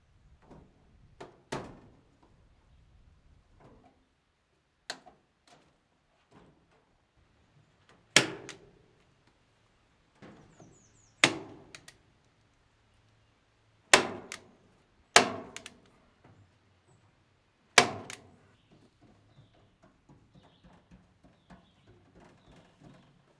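A DeWalt heavy duty stapler driving staples into wire during chicken coop work outdoors: about eight sharp, loud snaps at irregular intervals, with faint handling knocks between them.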